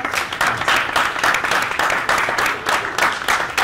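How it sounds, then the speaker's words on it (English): Audience applause at a meetup talk, a steady dense wash of clapping from a crowd lasting several seconds at full loudness. "Give her a round of applause."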